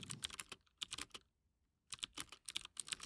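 Rapid keystrokes on a computer keyboard in two bursts separated by a short pause, crisp and close, with no talking.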